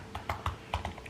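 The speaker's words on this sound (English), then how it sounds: "even the keyboard is bad on this computer" Keys clack on a computer keyboard in a quick uneven run of about eight sharp taps, close and fairly quiet, with no talking.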